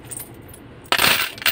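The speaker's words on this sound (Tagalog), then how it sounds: "Balik natin yung barya dito." Coins drop and clink as they are put back into a car's center console near an automatic transmission shifter, a short bright jingling burst after faint handling noise.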